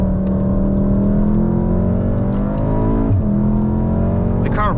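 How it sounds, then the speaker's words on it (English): A 2014-2019 VW Golf 7 R engine pulling hard under throttle in second gear, with a steady loud drone rising in pitch, a brief dip around a gear change, then climbing again, heard from inside the car. "Mash some throttle into the corner, again reduce to the second gear."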